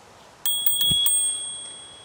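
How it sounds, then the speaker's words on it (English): A bright electric scooter bell rung quickly four or five times, close by, its metallic ring lingering briefly after the strikes. "I have a bell."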